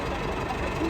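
A Massey Ferguson 385 tractor engine runs steadily up close, a dense continuous rumble with a slight knocking texture that holds even throughout and swells a little at the end.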